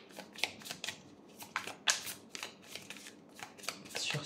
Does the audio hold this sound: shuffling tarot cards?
yes